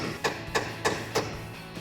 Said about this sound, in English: take the center punch, Just line that up with the center of the mounting location and take the hammer